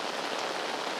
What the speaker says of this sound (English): it is kind of a heavy tropical rain